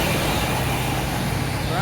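Road traffic crossing the Pitt River Bridge makes a steady, dense rumble of passing vehicles that continues without a break through the short stretch.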